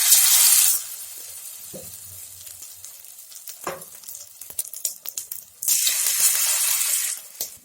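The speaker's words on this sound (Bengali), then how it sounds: "আমি এখন চিকেনগুলো ভেজে নেব।" Chicken pieces drop into hot white oil in a wok and fry with a bright, loud sizzle that swells at the start and end, with quieter crackling and occasional utensil taps between.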